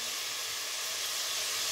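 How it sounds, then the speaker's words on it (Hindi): Chicken frying in a pot while being browned for degi chicken pulao, a steady, even hiss and sizzle that holds without a break. "चिकन को हमने 3 से 4 मिनट अच्छे से भून लिया है"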